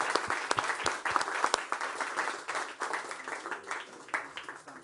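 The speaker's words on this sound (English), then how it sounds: "A round of applause, please." An audience claps for a climate-crisis panel at the World Economic Forum, with dense, sustained applause of many hands that stays loud and then slowly thins toward the end.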